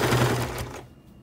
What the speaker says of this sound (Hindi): यहाँ से हम अपनी मशीन को चलाना स्टार्ट करेंगे बीच में रखते हुए।